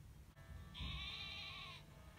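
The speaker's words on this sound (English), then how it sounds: "Mareep is the electric type sheep." A Mareep, the electric-type sheep Pokémon, gives its cry in Pokémon Sword: a single drawn-out bleat of about one second, clear and fairly loud over a soft game-music bed, with no talking.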